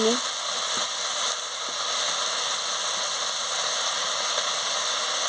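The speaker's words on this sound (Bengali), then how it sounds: "মশলাটাকে ভেজে নিচ্ছি" Spice paste with chilli powder, turmeric and a little water fries in a pan for an elephant-foot yam stem dish, a steady dense sizzle with occasional stirring knocks, close and even throughout.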